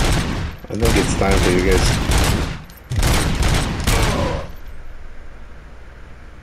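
Enemy gunfire in a first-person RoboCop shooter clatters in dense, loud volleys that break off briefly, return, then fade out into quiet ambience, with a voice talking over the shooting.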